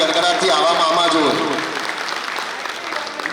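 An audience at a Shrimad Bhagavat Katha gathering in Vrindavan breaks into sustained clapping that follows a loud voice and carries on as a dense, even patter.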